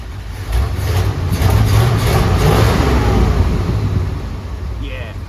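A 1978 Ford F-150 pickup's V8 engine revs up loudly and holds a deep, rumbling roar nearby, then eases back toward idle.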